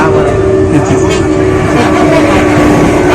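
A moving train rumbles loudly and steadily from inside a carriage, a dense continuous roar with a faint sustained tone running through it.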